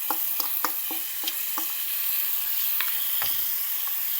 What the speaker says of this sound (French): كنهزو الشرموله ديالنا كلها اللي كنا درنا وكنخويوها